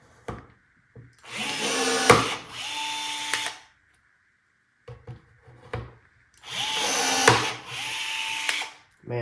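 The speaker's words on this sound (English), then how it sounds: "then we've got to rivet this down" Rivets are set with a rivet tool while a Coyote-swapped Ford Comet is finished, heard as two long, loud mechanical bursts separated by short clicks and quiet gaps, close up.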